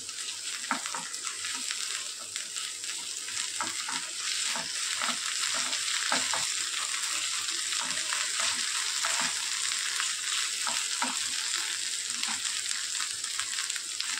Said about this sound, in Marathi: आलं लसणाची पेस्ट घालते मी त्यात. परतून घेते व्यवस्थित.